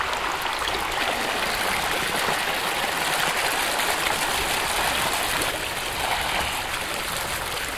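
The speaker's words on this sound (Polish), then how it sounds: "Przelewamy do szklanki." Sampled pond water pours steadily from a container into a glass, making a continuous close splashing rush with a constant loudness from start to finish.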